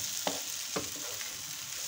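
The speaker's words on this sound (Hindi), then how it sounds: "थोड़ा सा जीरा भी डाल दूँगी ऐसे, और मैं इसको अच्छी तरह से मिक्स कर दूंगी" Brinjal masala with cumin being stirred in a frying pan, with three distinct scraping strokes of the spoon over a soft, steady sizzle of frying, close and without speech.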